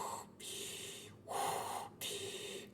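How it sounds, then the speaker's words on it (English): Breathy snoring rendered in the visual novel Memories Off, three drawn-out inhale-and-exhale snorts in a slow, steady rhythm, fairly quiet and heard alone. "so it's like snoring."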